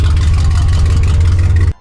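A highly modified car engine idles roughly and loud up close, its low uneven throb pulsing unsteadily for under two seconds before stopping abruptly.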